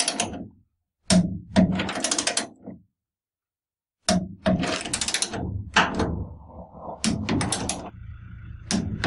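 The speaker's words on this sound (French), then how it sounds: "il faut évidemment faire ça à la clé dynamométrique" A torque wrench tightens front suspension bolts on a Renault 4L chassis, producing bursts of close, rapid ratcheting clicks separated by brief silences.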